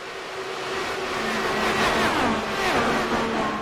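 Race car engine in the iRacing sim at Michigan International Speedway during the St. Jude 300, a steady loud drone with rising and shifting pitch as cars run in a pack, no talk.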